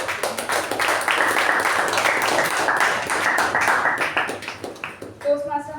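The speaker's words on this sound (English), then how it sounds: "let's put together with a huge round of applause Toastmaster Madhusudan on the stage" A round of applause for Toastmaster Madhusudan at a Toastmasters club meeting: a dense burst of many hands clapping that fills the room and fades toward the end as a voice comes in.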